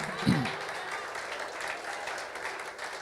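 A church congregation applauds in a steady, moderately loud wash of clapping that fills the whole stretch, with a brief low thump near the start.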